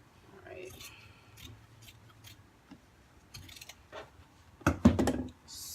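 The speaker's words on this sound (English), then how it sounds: "I'm going to use my fabric scissors, because I want an extra long piece." Fabric scissors snip through canvas in a short, crisp burst near the end, preceded by faint handling noises and talking.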